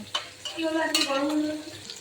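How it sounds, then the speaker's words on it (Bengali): Bata fish fries in a pan with a steady close sizzle and a few short stirring or utensil scrapes over a brief stretch. "এভাবে লাল করে বাটাটা ভাজবে"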